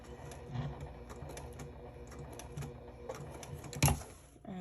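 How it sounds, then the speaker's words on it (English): A sewing machine stitches up the short side of a fabric piece, a quiet, even mechanical patter running steadily at close range with one louder clack near the end. "I'm going to sew up the other short side."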